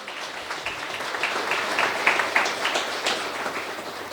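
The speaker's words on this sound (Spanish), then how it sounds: "aplausos." A crowd gathered for a church baptism service claps together in sustained, dense applause that swells slightly midway and carries on without a break.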